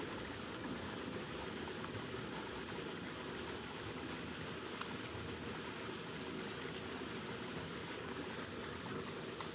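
Motor-pumped irrigation water pouring into a summer onion field, a faint, steady and even rushing flow with no break or voices.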